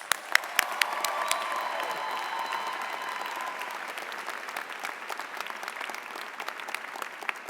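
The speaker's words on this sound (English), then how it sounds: "A round of applause, please." Audience applause at the University of the Arts 2017 commencement, dense steady clapping from a large crowd with a few sharp nearby claps and a faint tonal whine early on.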